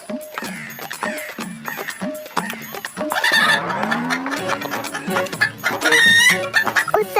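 Cartoon rooster clucking in short repeated bursts, then breaking into loud drawn-out crowing over busy background music, close and prominent throughout.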